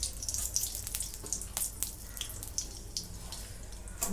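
Mustard seeds crackle and sizzle in two spoons of hot oil while bottle gourd curry is started, a steady close spatter of tiny pops and hiss with no talking.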